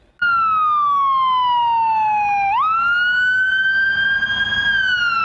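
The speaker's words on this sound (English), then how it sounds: "For this neighborhood, those sirens were a familiar sound" A loud siren wails continuously, its pitch sliding down slowly and then jumping up, held steady over low traffic rumble.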